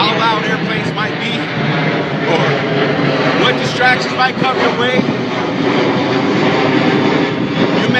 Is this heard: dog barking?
no